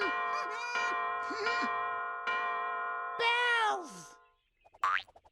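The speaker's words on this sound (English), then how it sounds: "Bells." Bells ring in a cartoon-like sequence of bright, sustained tones, several separate rings with bending pitch, ending in a quick rising boing.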